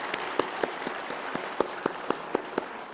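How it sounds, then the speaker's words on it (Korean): Sparse, sharp handclaps ring out one at a time at a steady pace, a small church congregation clapping in welcome during a Sunday communion service. "우리 큰 박수로 환영해 주시고요"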